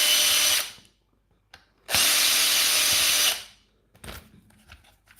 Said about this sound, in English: That's a T10 you use for this job